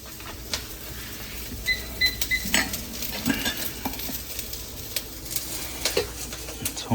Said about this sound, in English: 葱姜蒜 and fry it.